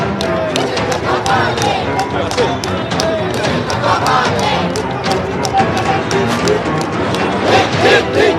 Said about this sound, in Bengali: তারাও এখানে স্লোগান দিচ্ছেন।